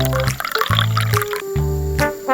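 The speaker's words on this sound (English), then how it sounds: "Fill the pan with cooking oil." Cooking oil is poured into a miniature frying pan on a tiny stove for frying squid, giving short, close liquid glugs and drips in a quiet, detailed cooking scene.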